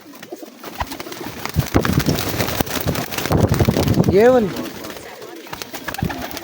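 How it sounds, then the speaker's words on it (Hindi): An Indian pigeon coos once in a rising-falling call, close and clear, amid outdoor wind noise and someone speaking nearby. "ये इंडियन कबूतर है।"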